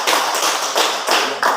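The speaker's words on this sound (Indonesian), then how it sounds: "Oke, tepuk tangan untuk kelompok" A short burst of classroom applause for a student group after its presentation, brisk overlapping claps from a small crowd, close and fairly loud.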